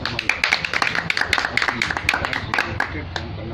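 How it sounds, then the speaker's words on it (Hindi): Audience applause at a Mission Shakti women's awareness event held by a service club in Bareilly: a dense patter of claps runs throughout, mixed with people talking. "आपके लिए तालियां बजा सकते हो"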